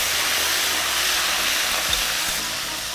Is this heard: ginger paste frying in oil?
yes